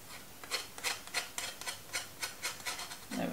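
Rhythmic rasping scrapes on a lemon lime soap bar as excess soap is shaved off, about eight short strokes in a steady back-and-forth pattern, close and fairly quiet, with no talking.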